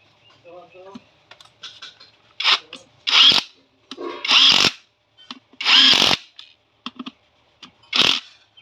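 Power tool fitting bolts onto a Hero Splendor motorcycle engine, heard as several short, loud bursts of whirring and rattling separated by pauses, with someone talking softly in between.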